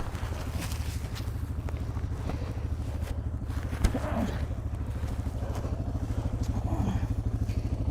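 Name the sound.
Suzuki DR650 motorcycle engine running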